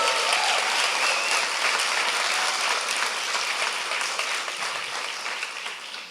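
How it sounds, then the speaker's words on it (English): An audience at a startup demo day applauds the entrepreneurs with a full, steady roll of clapping that gradually thins and fades toward the end, no speech over it. "let's give a round of applause to these entrepreneurs to give them energy and motivation"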